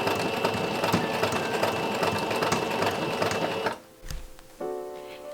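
A sewing machine runs a long stitch along a corset's boning channels, a dense rapid mechanical whirr for several seconds, then stops and briefly restarts at a lower, steadier hum.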